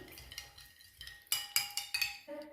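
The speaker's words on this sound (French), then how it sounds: "Je mélange bien le tout." A spoon mixes a shrimp dish in a bowl, with soft stirring scrapes followed by several sharp, close metallic clinks against the dish, alone and fairly quiet.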